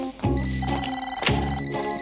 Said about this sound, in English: Your toaster's ringing.